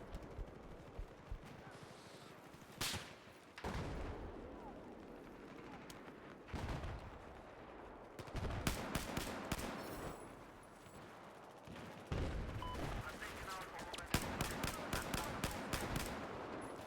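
Rifle fire from a FAMAS in a Battlefield 4 multiplayer match comes in repeated rapid bursts over a dense bed of battle noise, with some distant explosions and other gunfire mixed in.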